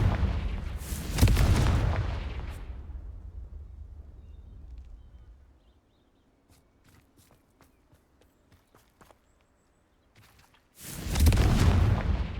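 A Confringo fire spell cast in Hogwarts Legacy lands as a loud, booming blast at the start, then fades into a quiet stretch of faint clicks and scuffs before a second heavy explosion erupts near the end.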